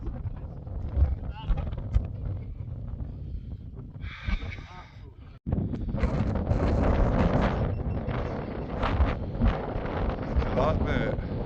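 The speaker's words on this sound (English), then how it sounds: "It was just so windy, snowing, blowing, ice rain, everything frozen." Strong wind in a blizzard on Ben Nevis in Scotland roars and buffets the microphone loudly and continuously, with gusting bursts and breathing close by.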